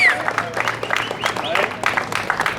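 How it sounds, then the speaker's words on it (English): Crowd applause at an outdoor Puerto Rico independence rally at the United Nations, steady clapping throughout the short stretch with a voice heard over it. "Give yourselves a round of applause"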